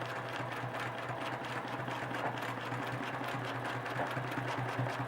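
A sewing machine stitches between existing lines of stitching on fabric feathers, giving a steady, continuous mechanical whir with a rapid rhythmic needle beat, close and even for the whole stretch.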